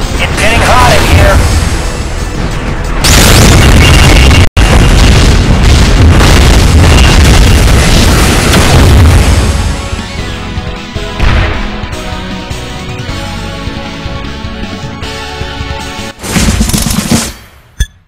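Super weapon explosions in the video game Win Wing, a dense loud barrage of booming blasts and rapid gunfire-like bursts, easing into quieter rumbles and a final short burst, with a game voice over the opening.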